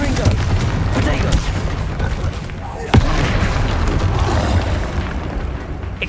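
Confringo, a blasting spell in the Hogwarts Legacy video game, goes off with a sharp bang just before three seconds. It stands out briefly over a dense, rumbling bed of combat noise and voices.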